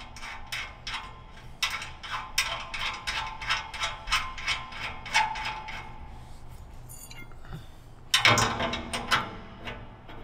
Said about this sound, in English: Thread the second nut on.